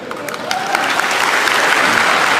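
An audience at a stand-up comedy show breaks into loud, dense applause that starts quickly and holds steady throughout, with little else audible.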